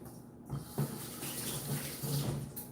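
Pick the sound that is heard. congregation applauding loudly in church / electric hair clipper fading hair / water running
water running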